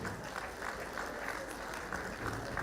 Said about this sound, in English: Can you applaud him?